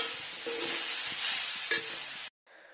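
Steady sizzling hiss of momo masala frying in a pan, with soft stirring scrapes underneath, cutting off abruptly near the end.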